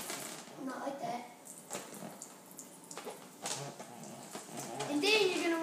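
Water running from a tap for a static electricity demonstration with a balloon, a continuous splashing wash heard faintly under a person talking throughout.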